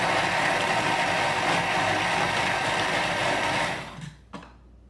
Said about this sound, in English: Let's go to speed 6.